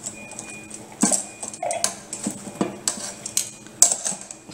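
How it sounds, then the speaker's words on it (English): Metal tongs clinking and scraping against a Philips air fryer basket as chicken wings are flipped, with a series of close, irregular clatters and taps. "I'm taking it out, and I'm just going to flip it."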